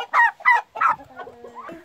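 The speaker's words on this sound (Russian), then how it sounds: "Скажите, пожалуйста, вот это все индюки же?" Turkeys clucking in an outdoor poultry run, a few quick close calls followed by softer warbling gobble-like notes, fairly loud and with no talking.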